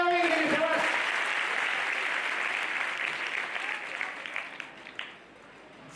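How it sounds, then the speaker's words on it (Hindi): An audience at a spiritual talk breaks into warm applause on request, starting with a brief spoken phrase, then steady clapping that gradually thins out and fades near the end. "ताली बजाओ एक बार, शाबाश"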